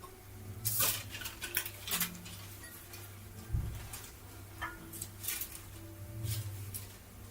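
A taco shell goes into a ripping hot pan, giving a few sharp clattering knocks and scrapes of cookware over a steady low kitchen hum.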